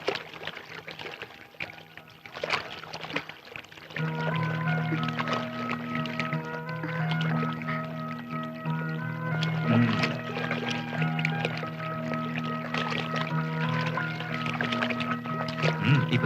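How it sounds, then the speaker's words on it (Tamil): Water poured into a vessel of hot water to cool it for drinking, a steady splashing pour running for most of the clip over a continuous background music bed. "இப்படி பஸ்ட் தண்ணி கலக்கணும்."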